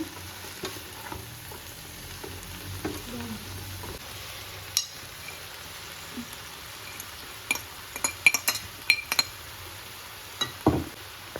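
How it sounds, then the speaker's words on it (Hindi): Chicken and vegetables for restaurant-style chicken Manchurian being stirred together in a hot pan: a low steady sizzle broken by scattered sharp clinks and scrapes of a utensil against the metal, growing busier toward the end. "चिकन को और सब्जियों को अच्छे से मिक्स करेंगे"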